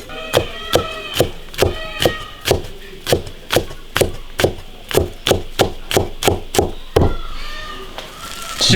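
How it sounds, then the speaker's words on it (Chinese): Ginger and garlic are chopped on a board in a quick, even run of about twenty sharp knocks, close and alone. The chopping ends with a heavier thud. "切点生姜大蒜。"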